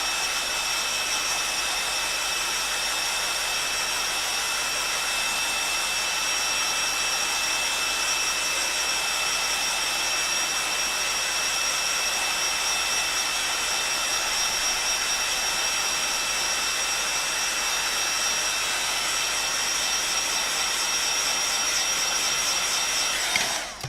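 A heat tool blows steadily over freshly applied coloured ink on paper, a continuous loud whirring hiss that holds unchanged for the whole stretch and then cuts off abruptly at the end.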